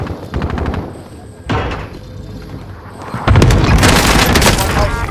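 Rapid machine-gun bursts and heavy booming blasts from a cluster strike in a multiplayer squad shooter game, loud and continuous, with the barrage intensifying sharply in the final seconds while players call out over it.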